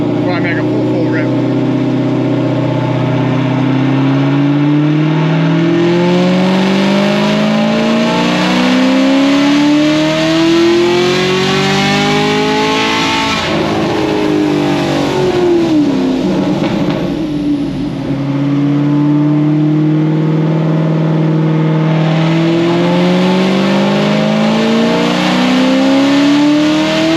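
Stage 5 Chevrolet Camaro ZL1 engine running on methanol, revving loudly up and down in long rising and falling sweeps, close and dominant the whole time, briefly dipping mid-way before climbing again.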